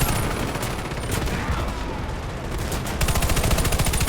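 Rapid machine gun fire in the video game Warface, a dense, continuous rattle of shots that grows heavier and more rhythmic near the end, loud and close.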